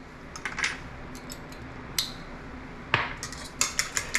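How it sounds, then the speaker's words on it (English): Light clinks and scrapes of a utensil stirring a dish of okra breading with spices and garlic powder, sparse irregular taps close by and fairly quiet, with no speech. "Gonna mix that up."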